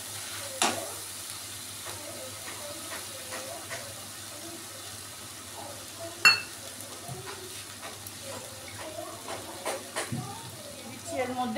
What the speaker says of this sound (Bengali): এবার একটু জল দেব মশলাটা কষার জন্য।